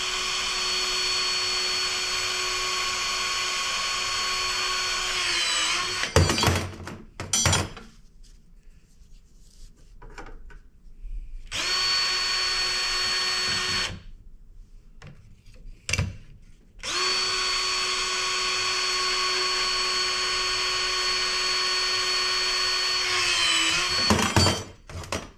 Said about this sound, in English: The one thing that I wish this cable cutter had was some way to move the blade up a little faster.